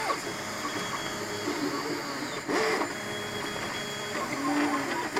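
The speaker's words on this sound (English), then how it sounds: "CTC 3D printer," A CTC dual replicator 3D printer runs while printing a part, its stepper motors whining and buzzing in shifting tones with short rising and falling pitches over a steady mechanical hum.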